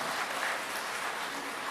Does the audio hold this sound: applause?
yes